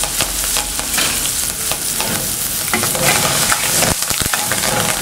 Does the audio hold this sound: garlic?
yes